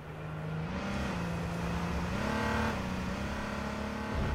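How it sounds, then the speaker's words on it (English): Engines of cars driving nearby in the video game H1Z1, a steady droning hum that rises and falls in pitch as they rev and shift, continuous and fairly loud with no voices. "these guys are just in cars"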